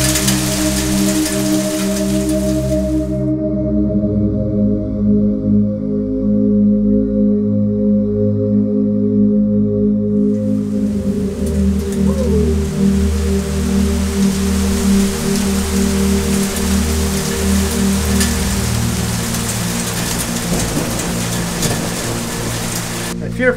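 Hail hammers steadily on the roof of a camper van with solar panels during a July hailstorm in a Calgary parking lot, a dense, loud roar of impacts that continues for the whole span, with brief voices underneath.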